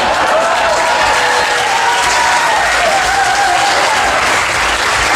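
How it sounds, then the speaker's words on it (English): Sustained, dense audience applause at a folk festival show, loud and steady throughout with faint crowd noise and a little voice mixed in. "Can I remind you that I'm scoring points on your applause."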